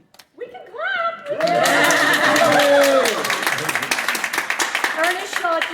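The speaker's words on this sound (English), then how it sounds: "We can clap!" Crowd clapping at an awards ceremony at the Baltimore Museum of Art, breaking in after a few cheerful voices and whoops, then swelling into loud, sustained applause that gradually thins into scattered individual claps.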